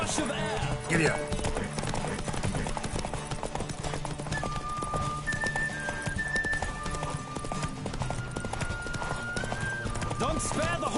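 Continuous close hoofbeats of a galloping horse in The Witcher 3 video game, rhythmic clip-clop running throughout beneath game music and a few spoken lines.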